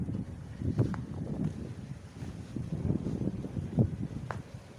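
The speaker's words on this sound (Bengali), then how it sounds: "কি বাতাস ছাদে, ঠান্ডা বাতাস আজকে" Cold wind gusting across a rooftop on a chilly day, a low rumbling buffet against the microphone with uneven surges and faint rustling, no speech.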